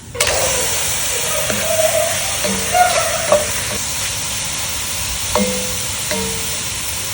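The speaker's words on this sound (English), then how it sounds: "Because the squid retains quite a bit of water, I like to do a quick dry fry first." Squid dry frying over coals on a braai, a loud continuous sizzle with steady hiss and a few scraping, stirring knocks, close up and without talk.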